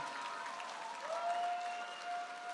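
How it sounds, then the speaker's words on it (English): Audience at a kitchen cooking competition event claps for the chefs, a soft, distant, even wash of applause with a faint tonal hum running underneath. "Round of applause for all of our chefs who did a phenomenal job."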